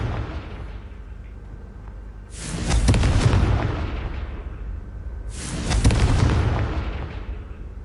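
Two heavy booming blasts from the Confringo fire spell in Hogwarts Legacy, each a loud burst with a rumbling tail, spaced about three seconds apart over a low game ambience.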